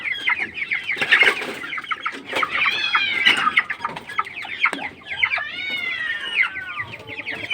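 Several chickens cluck and chatter continuously, fairly close, with overlapping calls and a few rising squawks, no talking.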